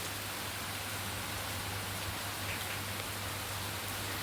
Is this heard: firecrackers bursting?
no